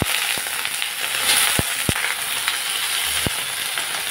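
Okra and pre-fried potatoes go into hot oil in a pan, setting off a steady, loud, close sizzle with a few sharp clicks of utensils on the pan, with no talking.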